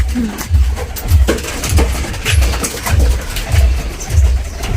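Pigeons coo nearby in a low, repeated rhythm, each soft call following the last at an even pace over faint background noise.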